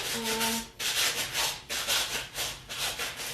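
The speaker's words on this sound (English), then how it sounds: "you can also sand it pretty easily in a form or shape that you want" Foam being sanded by hand in a workshop, a steady run of rasping strokes, loud and close, with brief pauses between passes and no talking.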